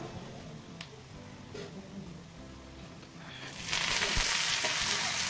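Garlic and two or three dried red chillies fry in oil, starting with quiet background noise before a loud, dense sizzle bursts in around the midpoint and carries on steadily to the end, with no voices.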